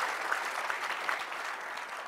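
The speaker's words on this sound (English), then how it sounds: "And give yourself a round of applause." A seated audience breaks into steady applause, a dense, even wash of clapping hands that holds at a constant level from start to finish with no voices standing out.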